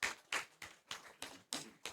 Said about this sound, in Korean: 자, 박수 한번 부탁드립니다